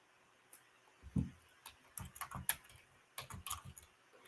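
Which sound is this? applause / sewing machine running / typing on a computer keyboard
typing on a computer keyboard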